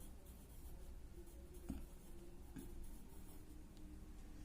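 A pen writing the number 100 on paper bags, a soft continuous scratching close up with a couple of light taps, very quiet and with no voices.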